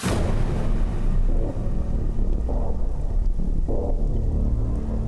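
Rain falls steadily on a night during the rainy season, a dense, continuous wash of noise with low rumbling, heard close and alone throughout the scene.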